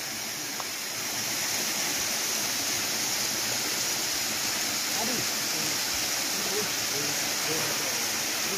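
A small hidden waterfall deep in the jungle pours at low flow, giving a steady, even rush of water that fills the scene without a break.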